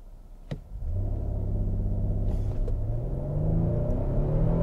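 A 2022 Kia Telluride all-wheel-drive SUV launches hard from a standstill, its engine rumbling and climbing steadily through the revs in a loud, sustained pull with rising harmonic tones, no voices.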